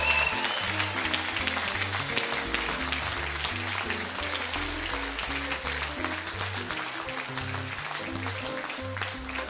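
Gala dinner audience applauding a charity auction winning table, steady dense clapping across the room with music playing underneath throughout.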